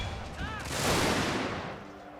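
Gunfire in a Total War historical battle game featuring Russian and American units, with a broad burst of shots and rumbling volleys swelling mid-clip, fairly loud, with faint game sounds around it.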